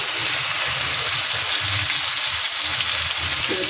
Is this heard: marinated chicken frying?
yes